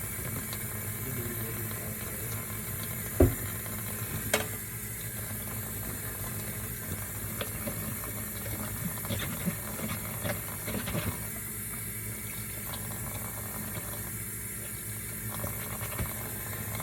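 Paint brushes being washed with dish soap under a running tap, a steady faucet stream with faint squishing and a couple of sharp knocks near the start.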